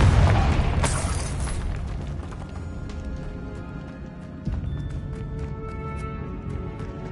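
A Confringo spell explosion in Hogwarts Legacy bursts loudly at the start and fades into a lingering rumble, followed by quieter magical shimmer and a small later thump.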